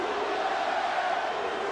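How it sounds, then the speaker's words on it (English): Brazilian fans in an arena chant together through a UFC fight between Fabricio Werdum and Travis Browne, a loud sustained crowd roar with a droning vocal tone and no break. "And we hear the chants from the Brazilians in the crowd."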